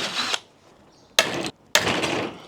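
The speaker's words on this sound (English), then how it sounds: "So if we drill a hole there into our nut, and then we can fasten that in place" Power drill boring a hole into a nut while fitting a tilting solar panel mount on an off-grid campervan: three short bursts of close, harsh drilling separated by brief pauses.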